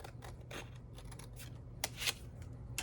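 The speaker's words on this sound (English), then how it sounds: "Grab my scissors, put this other journal card." Scissors snip through a paper journal card in a string of short, crisp cuts, with a louder burst of snipping near the end, close up and fairly quiet against a low steady hum.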